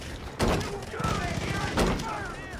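Gunfire in the video game Far Cry 5, with bursts of shots and heavy thumps over game noise while players talk loudly.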